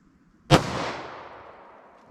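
A single sharp gunshot from a 2-inch-barrel handgun firing a Double-Tap bonded defense round, loud and close, its report decaying over about a second and a half, with no other sound.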